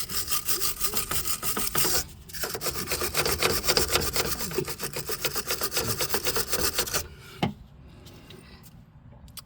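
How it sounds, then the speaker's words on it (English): Rust being rubbed off Jaguar X-Type suspension parts during a spring replacement: rapid, steady scraping strokes, close and fairly loud for about seven seconds, then a single knock and quieter handling. "just rubbing off the rust around the areas which I'm going to be cleaning up"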